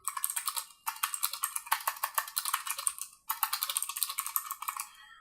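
Fast, crisp keystrokes clatter on a computer keyboard in three steady runs separated by brief pauses, close and clear with no talking.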